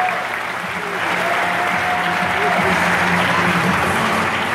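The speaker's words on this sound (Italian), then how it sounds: "Un applauso." Dense, continuous applause from an audience at Zoomarine, a steady wash of clapping without breaks, loud and close throughout.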